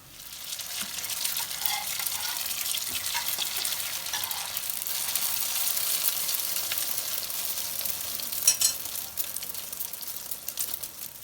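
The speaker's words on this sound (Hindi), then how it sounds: "बाकी पीसेस डाले हमने इसमें, इनको भी हम अच्छे से फ्राई करेंगे, दोनों साइडों से ब्राउन करना है।" Bread pieces fry in a pan until browned on both sides, making a steady, close sizzle that holds for several seconds with occasional light stirring clinks and no talking.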